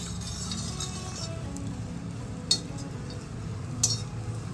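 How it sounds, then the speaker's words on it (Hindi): A spoon stirs hot frying oil in a pan while malai kofta cook, giving a steady soft sizzle and swirl with a couple of faint metallic clinks against the pan. "पहले ना आपको तेल को इस तरह से एक बार स्पून की सहायता से इस तरह से हिलाना है।"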